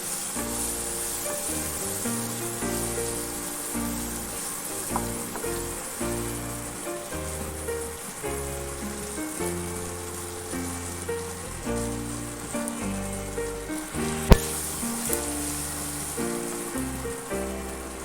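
Tomato and peanuts fry in a pan with a soft, continuous sizzle like light rain, heard faintly beneath prominent background music with a steady rhythmic beat.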